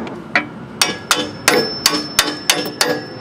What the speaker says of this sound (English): I'll have to get a hammer and tap it.